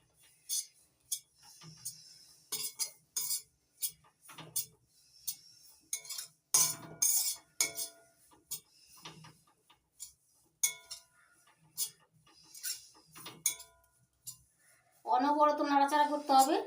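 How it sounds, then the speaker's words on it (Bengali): Bread crumbs being toasted in a pan, stirred continuously over low heat: a run of sharp, close spoon clicks and scrapes against the pan in an uneven rhythm, with a voice talking briefly at the end. "অনবরত নাড়াচাড়া করতে হবে, নাড়াচাড়া থামানো যাবে না"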